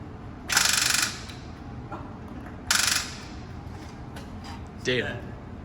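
An IS300 turbo build's engine cranks on a weak, spent battery during its first start attempt, giving three short ratcheting bursts separated by pauses, the last one fainter.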